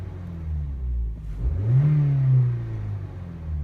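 A car engine revs up as the throttle is pressed, rising from a low idle rumble to a brief climbing whine before settling back, close and fairly loud with no talk.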